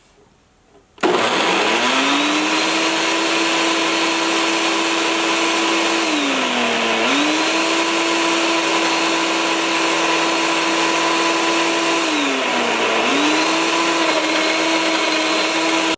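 A Cuisinart countertop blender running steadily, with a loud, continuous motor whine that dips briefly in pitch about every six seconds as the load shifts; it starts abruptly after a moment of quiet and plays alone, with no talk.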